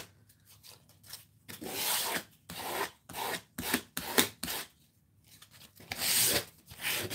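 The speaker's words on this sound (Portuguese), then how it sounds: "Só tô puxando a lixa, claro, tem que puxar de uma forma vigorosa." Coarse sandpaper pulled vigorously over a rustic wooden Easter plaque, giving rough rasping strokes in irregular bursts with short pauses between, close and fairly quiet.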